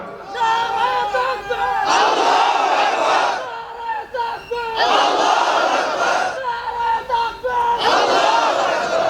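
A large crowd at an Islamic religious gathering chants slogans in unison, with loud massed shouts in repeated call-and-response bursts separated by brief lulls where a single voice leads.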